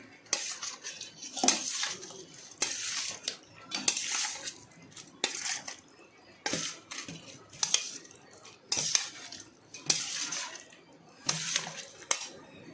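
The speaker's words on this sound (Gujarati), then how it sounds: "આપણે આ રીતે મિક્સ કરી લેવાનું છે." Potatoes being mixed with gravy using a spoon in a pan, repeated clinking metal scrapes and knocks in an uneven rhythm over about a dozen seconds, close and fairly loud, with no talking.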